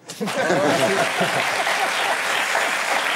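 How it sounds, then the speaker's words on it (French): Studio audience applause on a French TV talk show, a dense wash of clapping that swells in at once and holds steady and loud, with a few chuckles and voices mixed in. "Ça s'applaudit."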